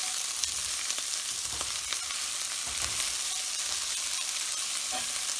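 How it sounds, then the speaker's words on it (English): Carrots, onions and celery sautéing in a pot while being stirred, a constant close sizzle with occasional scraping clicks from the spoon, no voices. "carrots and onions have been sauteing for about 5 minutes. And so now we're going to throw in the celery."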